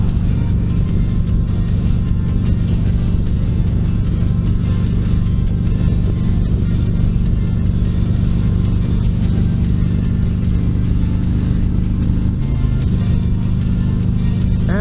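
Steady loud engine drone and road rumble from a vehicle cruising on the highway in sixth gear, continuous and even throughout with no talk.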